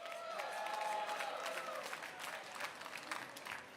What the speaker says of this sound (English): So let's give him a big hand of applause for the work that he's doing.